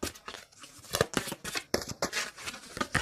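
A tarot card deck being shuffled close up, with a run of quick papery riffles and flicks in uneven bursts, fairly quiet and with no voices.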